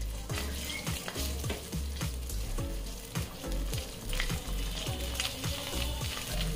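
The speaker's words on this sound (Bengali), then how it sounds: "আদা রসুনটা কিছুক্ষণ তেলে ভেজে নিয়েছি।" Ginger and garlic paste fries in hot oil for a cauliflower dish, a steady dense sizzle broken by regular spoon scrapes against the pan, close and loud throughout with no talking.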